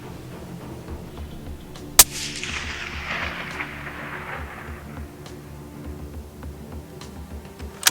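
A 6.5 Creedmoor Ruger Precision Rifle fires a single sharp shot, followed by a long rolling echo that fades over several seconds across an open range.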